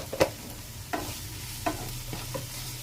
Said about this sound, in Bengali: এবার একটু সব মশলাগুলো একটু হালকা নেড়ে নিই।